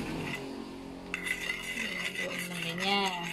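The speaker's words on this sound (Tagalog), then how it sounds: "Haluin mo siya." A utensil stirring patis in hot cooking oil, giving soft scraping and light clinks against a pan, faint and close, with a sizzle-like hiss.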